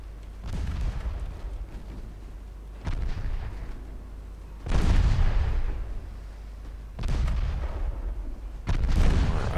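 Naval guns fire in the Ultimate Admiral Dreadnoughts game with Italian 1933-era warships. Five heavy booms come at uneven intervals, each followed by a rumbling decay. No one talks over them.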